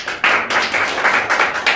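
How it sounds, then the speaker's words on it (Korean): Audience at the opening ceremony of a regional development society's winter academic conference claps together in a short, dense burst of applause, close and fairly loud, with no talk over it. "그냥 또 다 같이 박수 한번 보내주시기 바랍니다"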